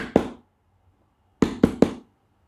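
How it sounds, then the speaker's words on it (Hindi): Knocking on a house door at a birthday party: one double knock, a pause, then three sharp, close raps in steady rhythm, with no talking. "दरवाज़ा को नॉक किया"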